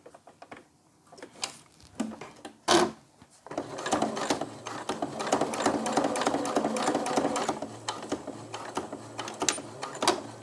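A quiet home sewing machine stitches bra seams, following the cup assembly seam up to the elastic edge; a sharp knock comes first, then a continuous soft mechanical run with light ticking fills the rest.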